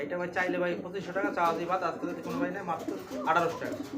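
Pigeons cooing at a pigeon market, soft repeated throaty coos close by, mixed with someone talking over them.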